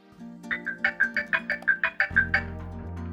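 A bright marimba ringtone melody on an old iPod Touch plays a quick run of plucked, bouncing notes, clear and mid-volume, with a low electronic hum underneath.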